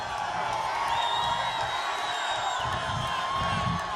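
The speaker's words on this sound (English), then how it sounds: "This is a big crowd." A large crowd at an outdoor campaign rally in Sanford, Florida, keeps up a steady cheering roar with scattered whoops and whistles, dense and continuous throughout.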